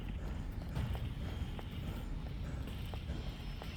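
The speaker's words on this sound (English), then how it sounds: "his footsteps sound really far away" Faint, distant footsteps in a survival horror video game, a steady trail of soft thuds buried under a dense, constant background rumble.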